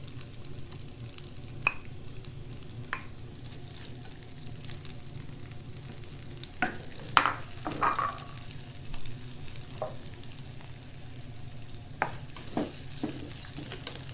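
Egg frying in a pan for a vegetarian stink bean stir-fry, a soft steady sizzle with scattered scrapes and clicks of stirring, quiet and close, no voices.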